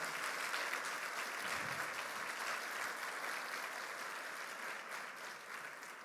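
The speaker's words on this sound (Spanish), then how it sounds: "Dale un aplauso fuerte al Señor" A church congregation applauds loudly and steadily, a dense sustained clapping that fills the room for several seconds before easing slightly toward the end.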